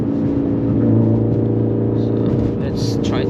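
A Mitsubishi Lancer Evo X running on E85 accelerates hard with traction control off, its engine droning as a steady, loud rumble with rising harmonics from inside the cabin, with brief hiss and clatter near the end.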